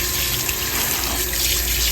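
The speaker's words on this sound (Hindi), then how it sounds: "पकाने से पहले साग को भी धोना है।" Running tap water splashes steadily into a sink as fenugreek, coriander, chillies and spinach are washed, a continuous close gushing with no talk.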